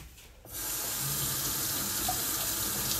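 A kitchen tap turned on to soak a sponge: a brief quiet moment, then a steady rush of running water pouring into a sink, close and continuous.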